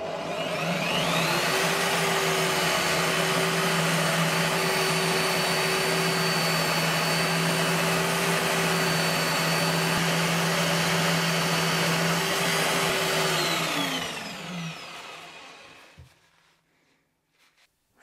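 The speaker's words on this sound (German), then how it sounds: "Ich weiß, eine Tischbohrmaschine ist keine Poliermaschine." A benchtop drill press, pressed into service as a polisher to strip a coating, runs with a steady loud whir and hum for about fifteen seconds, then winds down to quiet.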